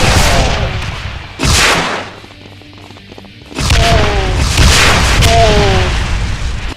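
Rocket-firing zombiemen in a Doom mod let off loud, booming explosions: one burst near the start, a short lull of mechanical clatter, then heavier overlapping blasts rumbling through the second half.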